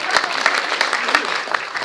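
Guests at a Kazakh wedding celebration clap together in a lively, uneven burst, with sharp individual claps standing out close by while a voice talks over part of it.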